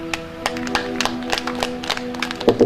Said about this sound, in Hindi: सभी लोग ताली से स्वागत करें।